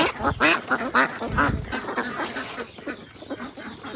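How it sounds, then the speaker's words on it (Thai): Laying ducks kept at night, with drakes among them, quack repeatedly in a dense, overlapping chorus close by, the calls fairly loud at first and thinning out toward the end. "แล้วเป็ดที่ ให้กับพี่น้องไปก็ถือว่า สวยนะครับสวยนะ"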